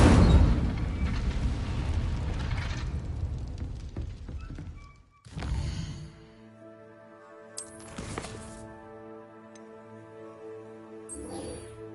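An Incendio fire spell cast in Hogwarts Legacy, a loud whooshing, roaring burst that fades over a few seconds, then a sharp thud and further brief impacts over sustained game music tones.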